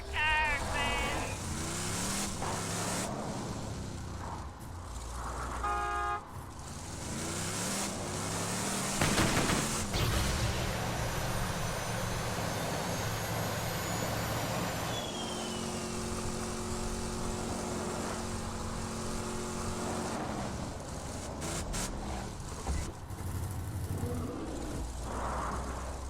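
A vehicle drives in Borderlands 2, with an engine droning and changing pitch throughout, mixed with game effects and bursts of gunfire and whooshes over a continuous roar.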